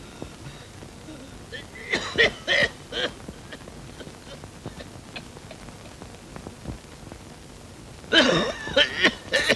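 An ailing father coughs in a domestic Malayalam film scene: a cluster of harsh coughing bursts, then a quiet stretch with faint ticks, then another loud fit of coughs near the end.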